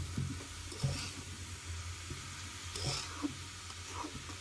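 Pumpkin pieces fry gently over low heat in a pan, a soft, low sizzle with occasional stirring knocks and scrapes, fairly faint and without voices.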